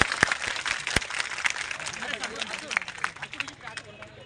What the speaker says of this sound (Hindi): तालियां बजनी चाहिए भाई जोरों से।